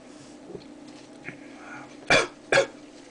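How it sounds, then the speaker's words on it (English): Two sharp, close coughs in quick succession near the end, following a few quieter breaths and small throat sounds, after eating a Bhut Jolokia (Naga) chili pepper. "They always make you cough when you swallow them"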